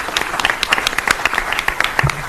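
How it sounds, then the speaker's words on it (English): Audience applause fills a school board and legislative delegation workshop: a dense, steady patter of many hands clapping at once, loud and close throughout, with no talking over it. "Let's give ourselves a round of applause for that."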